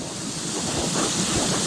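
Rushing water from the waterfall and rapids at Cautley Spout, a steady broadband roar with gusty wind buffeting the microphone, loud and continuous with no voices.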